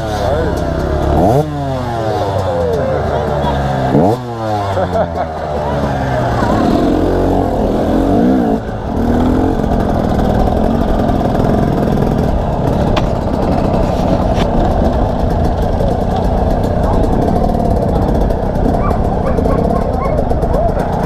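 A dirt bike engine revs and accelerates on a hilly trail ride in Cambuí, rising and falling in pitch through several throttle bursts. The engine is loud and close, with people talking over it.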